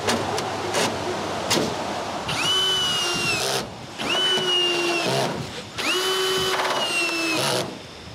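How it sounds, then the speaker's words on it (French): A power drill driving screws into the first row of metal shingle roofing on a firewood shelter, three sustained whirring runs that rise and settle, close and loud, with scattered knocks between them. "Et finalement, René et moi vissons la première rangée."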